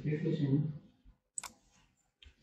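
Sharp keyboard key clicks from copy and paste shortcuts: a short stretch of talking, then two separate crisp taps about a second apart in a quiet room.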